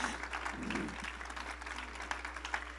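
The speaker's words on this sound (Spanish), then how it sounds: "Y dele un aplauso al Señor, porque Dios cumple sueños." A church congregation gives an applause to the Lord during an evangelist's sermon, a soft, diffuse patter of clapping heard at a distance under a low steady hum.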